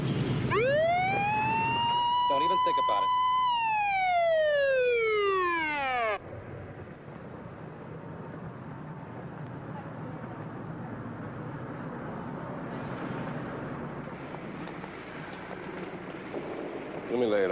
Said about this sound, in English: Get ready to turn on the siren.